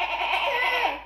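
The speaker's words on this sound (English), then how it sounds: "what sound does a goat make?" A single drawn-out goat bleat, fairly close and steady, lasting about a second with a wavering, nasal tone.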